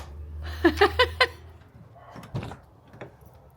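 A car door's rubber seal gives four quick, evenly spaced squeaks, followed by softer rubbing and creaking sounds close by.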